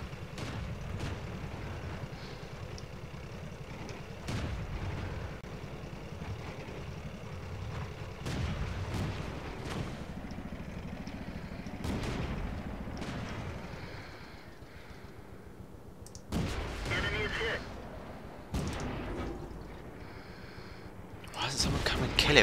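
Tank guns fire in World of Tanks, sharp cannon blasts scattered irregularly over a constant engine rumble, some shots close and loud, others softer, with a player talking faintly beneath the action.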